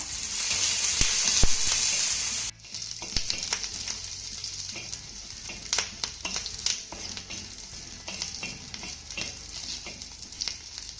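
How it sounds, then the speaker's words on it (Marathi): Garlic roasting in a pan, a loud hiss of sizzling that drops abruptly to a quieter crackle, with frequent clicks and taps of a spoon stirring close by; nobody speaks. "आता हा लसूण देखील आपल्याला डाग पडेपर्यंत चांगला भाजून घ्यायचा आहे"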